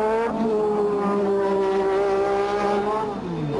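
A Formula 1 race car engine at the 1986 Hungarian Grand Prix, a loud sustained high-pitched whine holding steady revs as the car passes, with a slight pitch drop toward the end.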